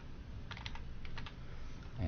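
Brief bursts of computer keyboard typing, a few quick key clicks close by over low room noise.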